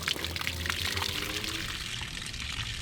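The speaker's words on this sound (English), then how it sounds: "Now we have clear water coming out." Clear water gushes steadily out of a flushed RV water heater, a continuous splashing pour heard close and fairly loud with no break.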